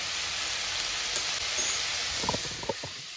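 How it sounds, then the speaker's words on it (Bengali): Turmeric and coriander powder sizzle in a hot pan with tomato for Anna Rasam, a steady close hiss with a few soft popping crackles toward the end. "এইবারে মশলাটাকে ভালো করে ভাজা ভাজা করে একটু ঢেকে দিতে হবে"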